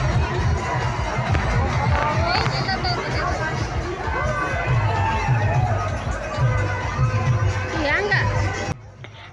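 A large crowd mills about at a village fair, a dense babble of voices with shouts and children's cries rising over the hubbub, continuous and fairly close.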